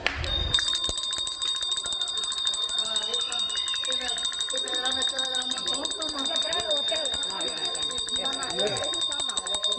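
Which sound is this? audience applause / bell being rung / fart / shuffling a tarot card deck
bell being rung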